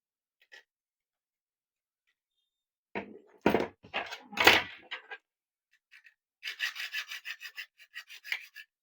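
Casing of a Mi power bank being cut open, heard as a few sharp scraping and rubbing strokes against plastic, then a run of rapid rasping filing strokes, with quiet gaps between bursts.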